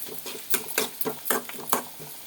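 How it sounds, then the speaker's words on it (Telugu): A spoon stirs chillies and turmeric around a pan in quick, distinct scraping strokes with faint sizzling in between, about eight close strokes in an uneven rhythm. "పసుపు వేసి కొంచెం బాగా కలుపుకున్నాం"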